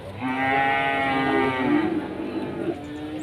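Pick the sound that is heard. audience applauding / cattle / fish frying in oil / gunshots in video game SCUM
cattle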